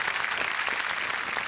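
A studio audience at a Marathi comedy show claps loudly and steadily, a dense close burst of applause filling the whole short stretch.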